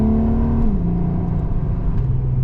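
Volkswagen Golf R32 launching hard from a standstill, its engine holding a steady high drone before the revs step down with a gear change and keep pulling, loud and close with no talk.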